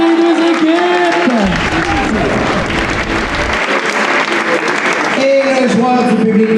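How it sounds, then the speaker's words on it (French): Audience at an improv show final clapping loudly for both teams, a dense, sustained applause filling the room, with a voice speaking over part of it. "Une bonne main d'applaudissement pour les deux équipes."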